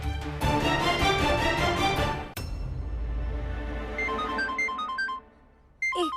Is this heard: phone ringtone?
yes